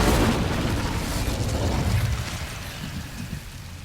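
Incendio fire spell cast in the video game Hogwarts Legacy, a loud whooshing blast of flame that peaks at the start and slowly fades away.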